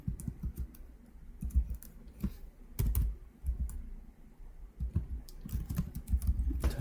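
Fingers tap out Terraform commands on a computer keyboard, a steady stream of quiet clicks with short pauses between bursts, close and alone with no voices.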